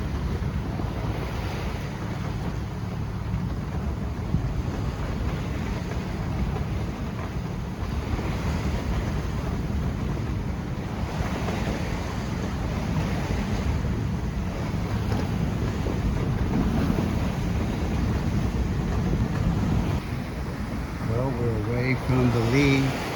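A sailboat making 6.2 knots in a 14-knot breeze off the lee of Eleuthera, through confused two-foot waves: a steady, loud roar of wind and rushing water fills the whole stretch without pause.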